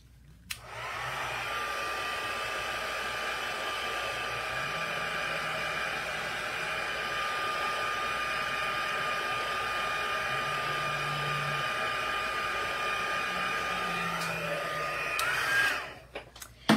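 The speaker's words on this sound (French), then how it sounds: "je vais sécher un petit peu avec mon séchoir à la vitesse 1" Hair dryer on its lowest speed drying water-based ink on a stamped card, a steady airy whirring hum with a faint high whine that runs continuously, then ends with a few clicks.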